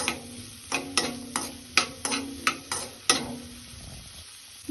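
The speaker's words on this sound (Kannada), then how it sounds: "ಚೆನ್ನಾಗಿ ಮಿಕ್ಸ್ ಮಾಡಿಕೊಂಡು ಬ್ರೌನ್ ಬರೋ ತನಕ ಲೈಟಾಗಿ ಫ್ರೈ ಮಾಡ್ಕೊಳ್ಳೋಣ" Chopped garlic lightly frying in a pan: a steady soft sizzle broken by about eight sharp scraping strokes of stirring, evenly spaced and close, with no talk.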